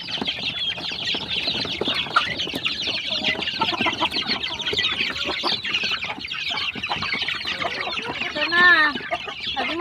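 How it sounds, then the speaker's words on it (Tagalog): Chickens in a poultry house cluck and chatter steadily while being fed a formulated feed, with a close, busy mix of overlapping calls throughout and a louder squawk near the end. "magpapakain kami sa manukan kung gagana ba sila."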